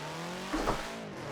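Brief engine rev from a manual-transmission car in the Forza video game, a short loud hum with a quick throttle blip midway.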